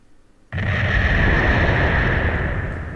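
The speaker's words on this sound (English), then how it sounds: "there was a deafening sound of an explosion" A loud explosion erupts in the horror video game Infectious Nightmare, a sudden blast after a quiet lead-in that swells into a sustained, roaring rumble and slowly fades across the rest of the moment.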